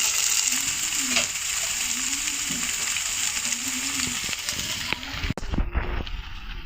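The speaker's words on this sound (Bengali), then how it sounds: "যে কাবাবটা মাংসের মিশ্রণটা আমার দেওয়া হয়ে গেছে তেলের উপর" Meat kebab mixture frying in oil hisses steadily over a faint tonal hum, followed by a few clattering knocks toward the end.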